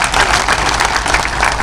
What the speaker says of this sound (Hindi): आप सबसे मैं आग्रह करता हूं कि जोरदार तालियां बजा करके इन सबका स्वागत हम लोग करें